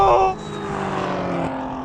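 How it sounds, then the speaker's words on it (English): A Bugatti Chiron Super Sport racing a 1,000 hp BMW M4 and M5 in a drag race: a sharp opening burst gives way to a sustained, rising engine drone as the cars launch, loud and close, ending abruptly. "The Bugatti struggles slightly with traction. The M5 launches hard. The M4 jumps straight into the fight."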